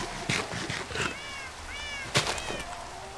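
Cats meow in a Minecraft world during rain, with several short close meows in a row over a steady hiss of rainfall.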